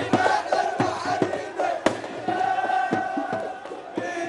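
A large crowd of Iraqi football fans cheers and chants in Tahrir Square, central Baghdad, during the Gulf Cup 25, with a loud, sustained roar broken by rhythmic bangs.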